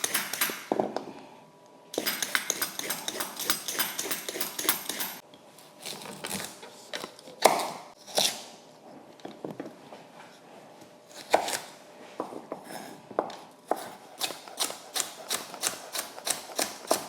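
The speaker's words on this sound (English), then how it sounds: "I'm gonna peel these, wash them," Carrots being diced with a knife on a cutting board at home, rapid sharp chops in dense bursts with brief pauses between runs, close and fairly loud, with no talking.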